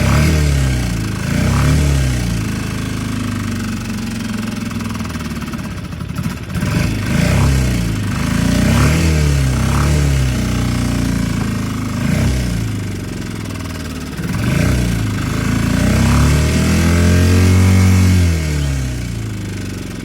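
A Hangkai outboard motor runs steadily after a carburetor repair, a loud, close, buzzing drone with a pulsing rhythm and slight rises in pitch as the throttle shifts.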